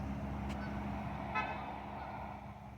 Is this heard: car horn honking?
yes